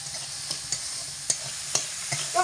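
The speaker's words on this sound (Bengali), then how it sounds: "আর দিয়ে দেব এখানে লাল লঙ্কার গুঁড়ো। এগুলোকে দিয়ে হাফ মিনিট মতো নাড়াচাড়া করে নেব।" Red chili powder and spices stirred and frying in a hot pan for a vegetarian drumstick, potato and pumpkin dish, a steady close sizzle broken by sharp spoon scrapes and taps against the pan.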